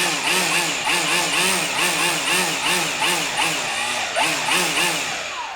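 A Milwaukee M18 FUEL 17-inch dual battery string trimmer runs close by, its motor whine rising and falling in a steady rhythm of repeated pulses as it cuts through growth.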